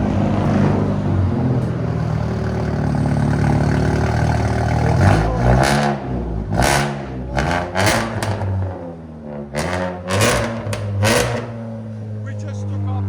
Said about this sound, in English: 2020 Jetta GLI turbo. It's got custom downpipe and it's fully straight pipe now.